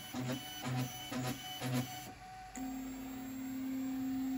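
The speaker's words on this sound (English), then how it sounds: "Then it made a bed parallel to the gantry by probing 3 points. Then it will do a bed mesh." Voron 3D printer running a bed-mesh probing routine, with four evenly spaced pulsing stepper-motor bursts followed by a short pause and then a steady whining motor tone, close and fairly quiet.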